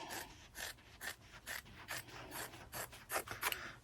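Fairly dull scissors snip through a quarter-inch fabric seam allowance on a zipper bag, a quiet run of about a dozen rhythmic rasping cuts, with no voices.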